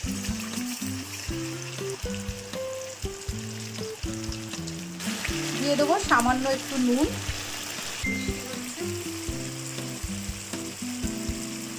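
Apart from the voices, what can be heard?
frying dried red chilli, bay leaf and spice paste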